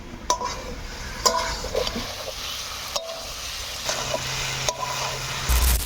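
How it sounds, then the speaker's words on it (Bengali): Garlic and spices fry in a pan for a garlic recipe served with naan, as a spoon stirs them. A steady sizzle runs throughout, broken by repeated scraping and clinking strokes against the pan. "এবার মশলাগুলার সঙ্গে রসুনটা ভালোভাবে নাড়ি চাড়ি নিব"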